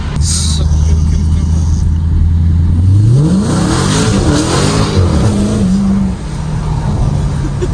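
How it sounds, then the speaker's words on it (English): A 2023 Dodge Challenger Hellcat Redeye Widebody floored at full throttle in sport mode, its engine idling low before a loud, rising roar with rapid shifts, heard close from inside the cabin with voices underneath. "I'm going to show you what happens when you floor this car uh, in sport mode"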